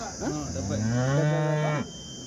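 A single drawn-out moo from a cow calf at a weekly cattle market in Punganur, rising then holding steady before cutting off, close and loud over a faint background hum.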